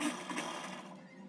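A sewing machine stitches a seam on a heavy-size Pakistani flapper trouser, a steady close mechanical whir running alone through the short moment.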